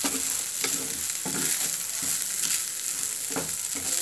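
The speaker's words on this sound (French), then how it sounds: "juste on mélange et on essaye de récupérer le reste qu'on a dans la poêle" Cooked rice with meat and onion is stirred in a frying pan over a soft sizzle, with repeated scraping and tapping strokes of the spoon against the pan at an uneven pace.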